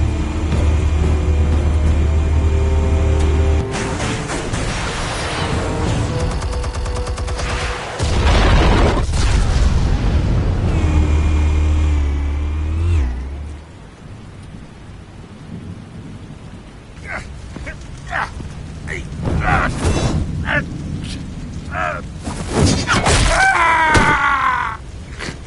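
Explosives detonating in the video game Batman Telltale sound as deep rumbling booms and a long crashing roar that fades into a quieter tail with sharp cracks, followed by voices talking.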